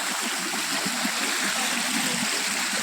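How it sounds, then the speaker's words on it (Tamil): Water pours steadily down a stepped waterfall on a trekking trail, a continuous close rushing with no talk. "ஃபுல்லாக இங்கேருந்து வாட்டர் ஃப்ளோ ஆகிட்டு தான் இருக்குது"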